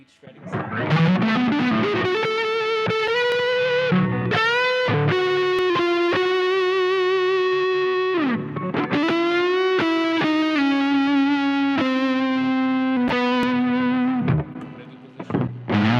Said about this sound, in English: Okay, neck pickup. Should we get some of that sweet shredding sound?